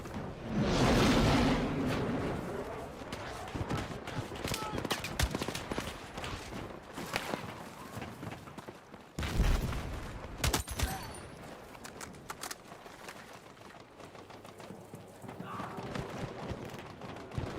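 Gunfire in Battlefield 6, with bursts of shots and sharp cracks over a busy combat din. A loud cluster of bursts comes near the start and another heavy one in the middle.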